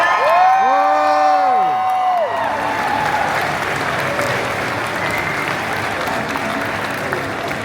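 A large crowd at a Pokémon cosplay show at the Pokémon Europe International Championships in London claps and cheers loudly, with whoops rising above steady applause; a voice briefly imitates a siren-like wail at the start.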